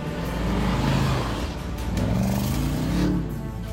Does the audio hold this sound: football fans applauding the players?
no